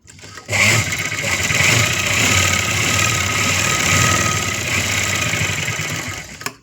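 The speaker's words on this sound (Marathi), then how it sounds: "आता ह्या साईडने परत एक शिलाई टाकून घ्यायची" Close and continuous, a sewing machine hums while stitching a seam along a blouse button strip, running without pause from start to finish.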